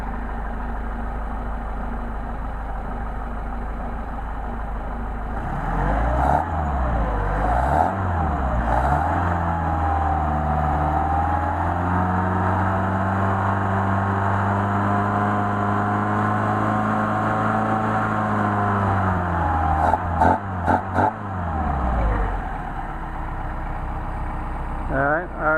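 A car engine fitted with a Solex carburetor idles steadily at about 1,000 RPM, a loud continuous low hum whose pitch dips and rises briefly a few times before settling, with small clicks near the end.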